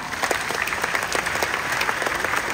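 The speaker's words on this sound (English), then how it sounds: "Now you all can try to clap as much as you want to distract him." An audience claps in a continuous burst of applause, many hands at once, close and fairly loud for a couple of seconds.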